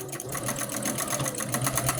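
A sewing machine runs steadily up close while backstitching a rag quilt block, its rapid needle clatter continuing without pause and no voices.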